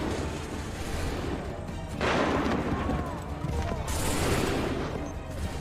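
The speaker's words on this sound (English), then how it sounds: "Make ready! Open fire!" Musket volleys crack out in loud, dense bursts during an Assassin's Creed III battle, the reports overlapping amid shouted commands and battlefield noise.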